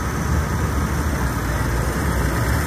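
A Ford 8970 tractor fitted with a Holset HX50 turbo and power shift transmission, pulling a sled at a tractor pull. Its engine roars in a loud, steady, dense drone throughout, with no breaks.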